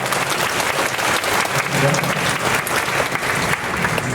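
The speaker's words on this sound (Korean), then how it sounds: "우리 박수로 환영하겠습니다" Steady applause from a church audience at a Korean Presbyterian Day ceremony, greeting a male vocal duet, with dense clapping holding at an even level throughout and a brief low tone surfacing in the middle.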